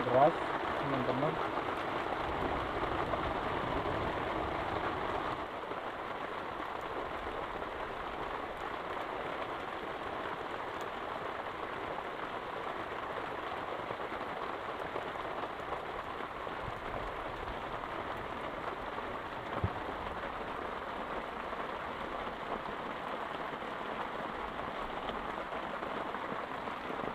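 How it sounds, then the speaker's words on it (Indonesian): A downpour drums without pause outside a simple hut during wood-fire cooking, the dense patter of rain holding an even, moderate level from start to finish. "luar masih hujan deras teman-teman."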